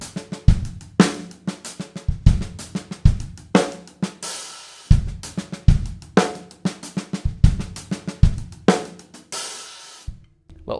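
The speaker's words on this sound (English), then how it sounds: "I'll just open the hi-hat nice and long." Drum kit groove with kick and snare hits, crisp hi-hat strokes and long washy open hi-hat notes recurring every few beats, played close and loud without talk, ending in a brief pause.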